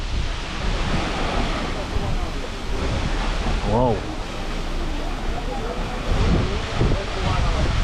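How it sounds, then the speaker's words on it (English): A permanent waterfall in the Milford Sound fiord roars as a loud, steady wash of rushing water mixed with buffeting wind, with a brief exclaiming voice over it. "One of only 2 permanent waterfalls in the field."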